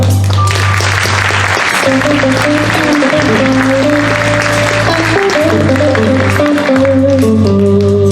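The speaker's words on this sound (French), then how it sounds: "vous pouvez applaudir" An audience at a blues workshop event in Montceau-les-Mines applauds loudly and continuously, the clapping layered over sustained music playing underneath.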